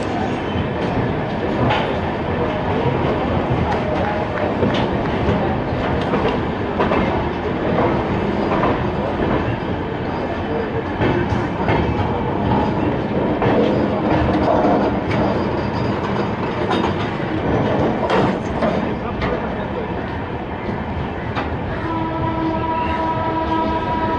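The North East Express, a passenger train, running steadily on its rails with a continuous loud rumble, rhythmic clickety-clack of the wheels and brief horn-like tones near the end.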